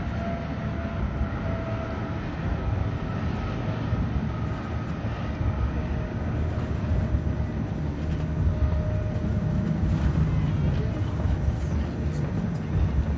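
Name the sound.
helicopters flying overhead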